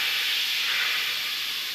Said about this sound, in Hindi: और अब हम दाल पे लगाएंगे तड़का